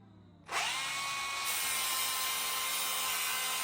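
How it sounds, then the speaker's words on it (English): An angle grinder shaves the plastic lip off a Project Aero front splitter on a Mitsubishi Evo 9. It spins up abruptly into a loud, steady, high whine that continues close by without a break. "the great old grinder came in handy. So, basically, I've shaved off that lip that was sticking out all the way."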